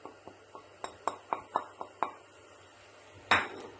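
A spoon clinks and taps against a metal cooking pot as fresh herbs are stirred in, about a dozen quick light knocks in an irregular rhythm, close and fairly quiet.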